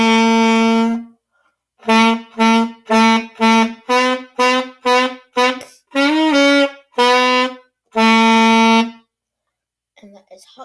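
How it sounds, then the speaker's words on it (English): Hot Cross Buns played on a saxophone: eleven loud, clean reedy notes in the simple three-part tune, short notes clustered in the middle and longer held notes at each end, played alone with no talking. "And that is Hot Cross Buns on the saxophone."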